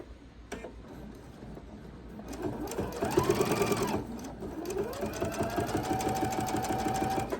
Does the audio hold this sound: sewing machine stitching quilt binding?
yes